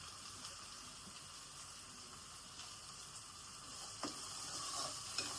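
Ginger garlic paste fries in a pan for chicken curry, giving a soft, steady sizzle with occasional scraping stirs near the end, quiet and without talk.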